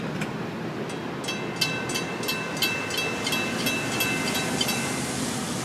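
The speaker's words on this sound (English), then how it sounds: "Very, very, very short train this morning." A short Florida East Coast Railway freight train, number 210, rolls past in the morning, its wheels giving a steady rumbling wash with a run of rhythmic clacks and faint metallic squeal over the tracks.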